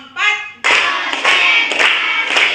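Children clap in a counted unison pattern in a classroom, a short opening burst of voices then a run of four or five loud, sharp group claps following each other closely.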